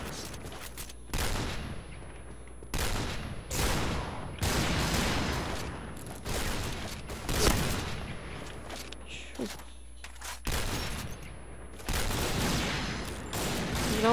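Sniper rifle fire from a Cheytac in the video game Point Blank, with several sharp shots and bursts at irregular intervals, loud and close, with a player talking over them.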